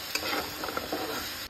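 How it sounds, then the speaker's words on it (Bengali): Mutton curry with onion, tomato, turmeric and oil is stirred in a hot pan, a close, steady sizzle broken by a few short scraping strokes. "এবার নাড়ানাড়ি চলবে, শুধু নাড়ানাড়ি, শুধু নাড়ানাড়ি।"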